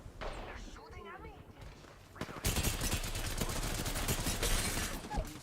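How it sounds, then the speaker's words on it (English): Enemy gunfire in the Apex Legends game erupts as dense rapid shots after a couple of seconds, continuing as a loud crackling barrage under raised player voices. "They're shooting at me."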